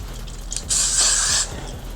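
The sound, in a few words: hair spray being sprayed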